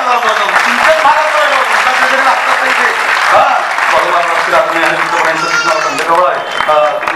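An audience claps along at a Marathi kirtan, a continuous wash of many hands under a loud singing or chanting voice that stays prominent throughout.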